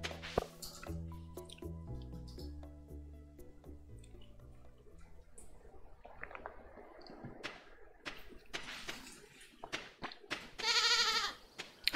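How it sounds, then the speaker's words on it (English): A goat in the Stardew Valley farming game lets out a loud, wavering bleat near the end. Before it come soft game music notes and light squishy, dripping effects. "That's my goat."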